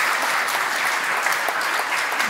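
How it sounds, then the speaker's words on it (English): A conference audience claps in a dense, steady burst of applause that stays loud and even for a couple of seconds, with no voices over it. "Big round of applause."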